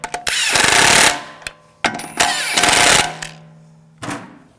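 An impact gun snugs the lug bolts on the front wheel of a 2006-2009 Audi S4 Convertible, firing in loud close rattling bursts, two long ones and then shorter ones, separated by brief pauses.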